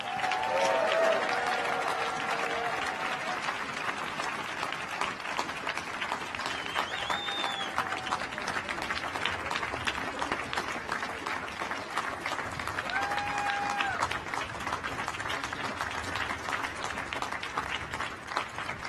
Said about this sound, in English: Please join me in giving another big round of applause for our new governor, Jared Polis.